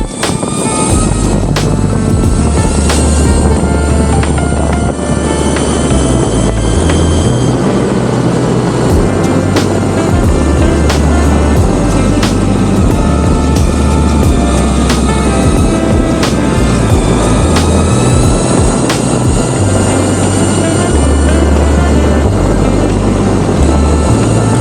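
Linnpower Zephyr electric skateboard motors whine loud and steady while riding, a continuous high hum with rolling wheel noise that never lets up.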